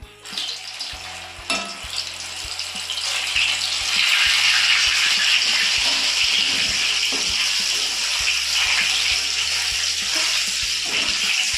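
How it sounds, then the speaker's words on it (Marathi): Prawns for koliwada fry sizzle steadily in hot oil, a dense crackling hiss that swells louder after a few seconds and holds at a constant level, with occasional stirring clinks near the start and no talking. "आता आपण या प्रॉन्सला पुन्हा एकदा फ्राय करणार आहोत."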